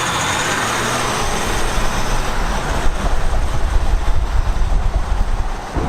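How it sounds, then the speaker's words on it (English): Diesel Jeep Wrangler engine clatter heard from inside the cabin while driving, a steady loud rumble with road noise throughout and no talking. "you do get a lot of that diesel clatter coming into the cabin"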